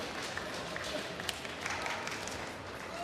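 An arena crowd applauds after a horizontal bar routine at a gymnastics World Cup, a dense, even wash of distant clapping that holds steady throughout, fairly faint.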